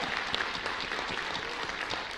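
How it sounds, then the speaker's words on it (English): An audience at an education gathering claps for two women just introduced. Moderate, continuous applause with individual claps faintly distinct runs steadily through the short stretch. "we can applaud for them"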